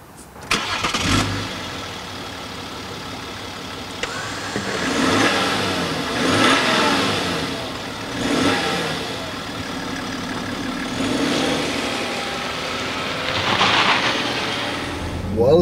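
2014 BMW X5 xDrive40d diesel engine starting with a sharp crank, then settling and revving through several rising surges as it drives off, fairly close with interior noise.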